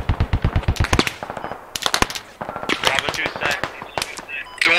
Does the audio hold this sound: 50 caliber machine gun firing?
yes